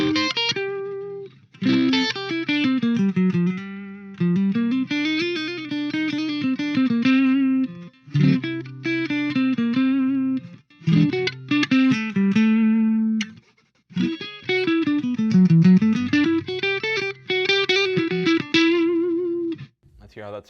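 An ESP LTD EC-1001T electric guitar played clean on its neck pickup in phrases of picked notes and chords with a warm, ringing tone, loud and close, with short pauses between runs.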